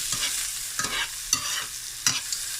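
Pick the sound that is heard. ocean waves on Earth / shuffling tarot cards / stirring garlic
stirring garlic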